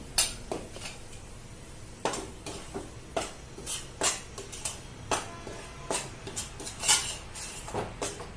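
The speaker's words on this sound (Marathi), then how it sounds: "हे गव्हाचं पीठ आहे हे आपण आता लाल नसर होईपर्यंत भाजून घेणार आहोत" Wheat flour is dry-roasted in a pan for homemade laddoos, with a spoon or spatula repeatedly scraping and clinking against the metal in uneven strokes, close by and moderately loud, with no talking.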